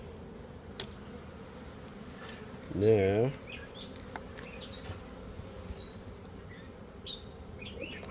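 Honey bees buzz steadily around an opened hive frame during a spring mite check. A louder bee passes close in the middle of the drone, and a voice speaks briefly.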